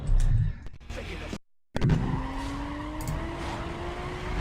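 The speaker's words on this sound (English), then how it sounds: "Oh, except we just braked extremely heavily." In Need for Speed: Most Wanted, a car engine revs, cuts out abruptly, then tires screech in a long skid with a rising whine as the vehicle brakes hard.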